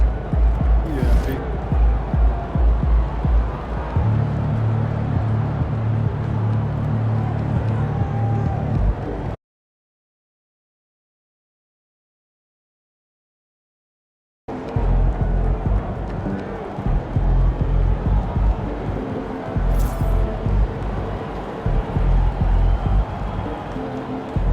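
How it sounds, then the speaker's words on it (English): A loud arena crowd in the basketball video game NBA 2K25 roars steadily beneath a commentator's voice, cutting out completely for a few seconds before the din returns. "surprisingly loud crowd tonight."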